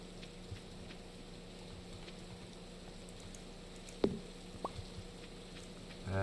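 Steady rain falls on a rainy day in the Stardew Valley game, a soft even patter with a few isolated drips, faint and continuous with no talk.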